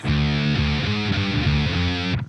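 A heavily distorted electric guitar plays a riff, a run of sustained, changing palm-free notes and power-chord shifts, loud and alone, ending with a quick cutoff.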